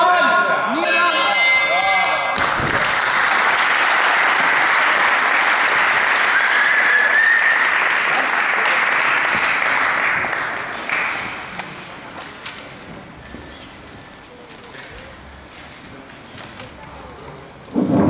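An audience gives loud, dense applause for the fighters after a combat sports bout, sustained for about ten seconds before tapering off into scattered claps and crowd murmur, with a voice heard at the start.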